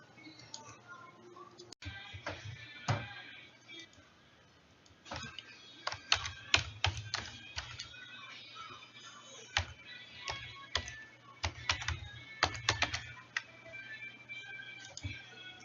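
Typing on a computer keyboard, with irregular bursts of close, crisp key clicks separated by short pauses, under low background hum.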